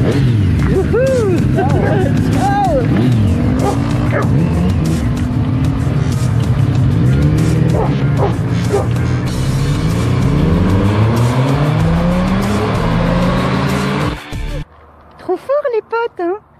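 Several motorcycles roar past close by with rising and falling engine pitch, under excited talking and cheering, ending abruptly in quieter voices.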